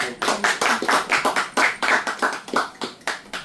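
A church congregation claps hands in a steady, fairly quick rhythm of distinct claps, close and loud, with no talk over it.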